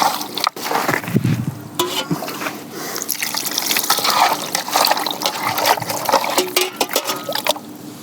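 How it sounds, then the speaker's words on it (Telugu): Water is poured over marinated chicken pieces for lollipops to wash them, a close, loud splashing and trickling that runs continuously with small dribbles and bumps, and no one speaks. "దీంట్లో కొద్దిగా వాటర్ పోసి ఇంకోసారి కడుక్కోవాలా."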